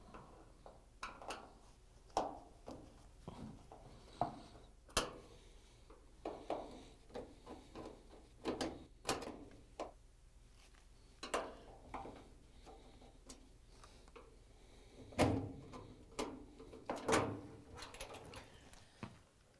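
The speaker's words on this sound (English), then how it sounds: "We're going to use a Phillip screwdriver to take them out." A Phillips screwdriver backs screws out of a GE dryer door hinge, giving faint irregular ticks, clicks and metallic scrapes spaced through the clip with a few louder knocks near the end.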